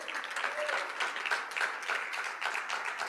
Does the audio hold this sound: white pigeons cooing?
no